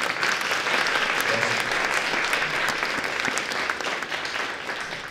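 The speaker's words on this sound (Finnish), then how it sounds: "Otetaanko pienet aplodit?" Steady applause from an audience at a photojournalism awards ceremony, a dense, even wash of clapping sustained for about five seconds with no speech over it.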